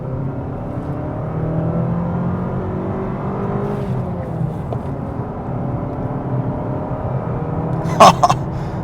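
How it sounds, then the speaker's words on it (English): A 2025 Mazda 3 Premium accelerating on a multi-lane highway, a steady engine drone and road hum heard from inside the cabin, rising slightly in pitch, with a brief click near the end. "open her up a little bit more as soon as we get the chance"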